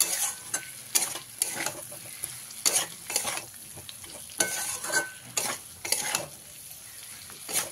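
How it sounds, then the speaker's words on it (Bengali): Fried potatoes being stirred with turmeric in a pan, soft sizzling under repeated scraping strokes of a spatula at an irregular rhythm, close and fairly quiet. "হলুদটা দিয়ে ভালো করে আবারও মিশিয়ে নেব।"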